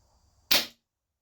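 A single sharp crack of an RTI Prophet air rifle firing a pellet through a chronograph, close and loud with a quick decay, after a faint hum and before silence.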